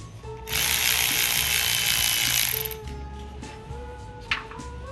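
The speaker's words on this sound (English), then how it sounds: "I just have one more bolt to remove on this oil tube" A bolt being removed from the oil tube of a 1930 Ford Model A with a ratchet: a loud, steady rapid clicking whir for about two seconds, followed by quieter workshop noise and a brief tap.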